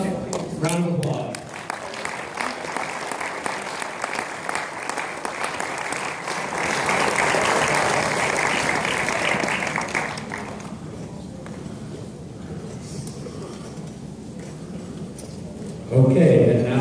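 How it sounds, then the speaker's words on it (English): An audience at an awards ceremony applauds in a long, steady round of clapping that swells and then thins. A voice speaks briefly at the very end. "Give them a round of applause."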